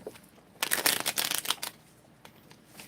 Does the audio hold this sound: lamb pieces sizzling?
no